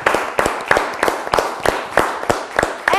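A group claps in a quick, fairly regular rhythm for a few seconds, the sharp hand claps loud and close.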